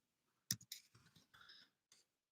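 A computer keyboard is typed on in a few quiet, close clicks: one sharper keystroke, a short cluster of taps, then a final click.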